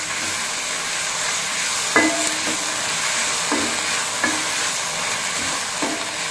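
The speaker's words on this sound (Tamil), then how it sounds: "இதே மாதிரி நல்லா வதக்கி விட்டுட்டு மூடி போட்டு வேக வச்சுக்கலாம்." A ripe tomato sautéing in a pan for street-style masala puri, giving a steady close sizzle broken by a few sharp stirring clinks at regular intervals, with no voices.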